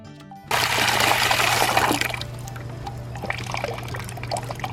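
Hot water pours out in a loud, close gush that starts abruptly, then eases into a softer splashing trickle with a low steady hum underneath.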